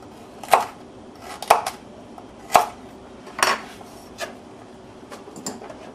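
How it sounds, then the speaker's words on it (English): A knife chops baby carrots into hunks on a cutting board, giving about six sharp, separate thwacks spaced roughly a second apart that grow fainter toward the end, close and clear with no talking. "Just cut them into hunks. Yes, these are baby carrots."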